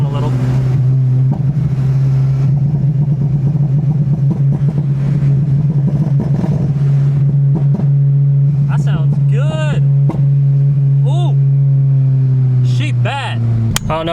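A car engine running on E85 fuel drones loudly with a steady low hum. Toward the end, rising and falling whine sweeps come through, and a voice talks over it now and then.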